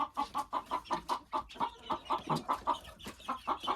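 Chickens in a coop cluck in a steady series of short, rhythmic calls, fairly faint and close, with no talk over them.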